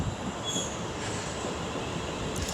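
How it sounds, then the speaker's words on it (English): A West Midlands Railway train rolls into Rugeley Trent Valley station with a slightly flat wheel, giving a steady, moderately loud rail rumble with some high squealing. "Now the sounds of it, he's got a bit of a flat wheel as well"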